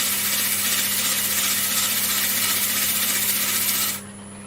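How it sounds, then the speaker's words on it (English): Sandpaper rubs a large wooden platter turning on a lathe, making a steady, loud broadband hiss over a low motor hum that cuts off abruptly near the end; no talking. "So I don't need to sand this too much, just a little bit."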